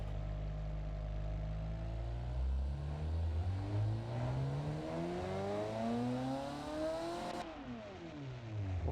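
A V8 drag racer engine in BeamNG.Drive revs steadily upward through rising pitch sweeps, then drops off sharply near the end and climbs again, loud and continuous with no talk.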